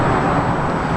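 Car traffic passing near a scenic roadside viewpoint, with a large 4x4 parked nearby; a steady, fairly loud broadband road rumble fills the whole second with no distinct pauses.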